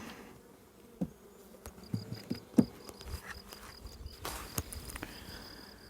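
A low insect drone of honeybees buzzing nearby at a hive split, with scattered taps and knocks breaking through; no voices.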